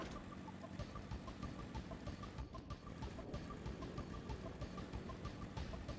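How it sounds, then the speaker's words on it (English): A motorcycle engine from the video game Final Fantasy XIV: Endwalker idles with a steady, rough, knocking chug, moderately loud and continuous, and nobody talks over it. "Can ride a motorcycle too."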